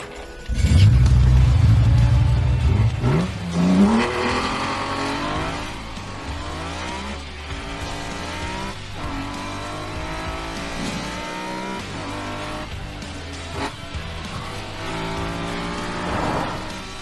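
An old car revs hard and drifts at speed through corners in a street race, its loud engine rising and falling in long sweeping pitches with squealing tires, close and dominant throughout.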